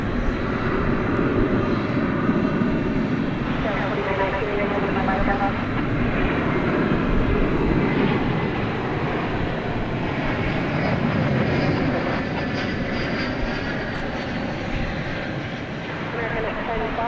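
A UPS Boeing 747 cargo jet at DFW airport fills the night air with a loud, continuous roar and whine of jet engines, while someone talks over it throughout.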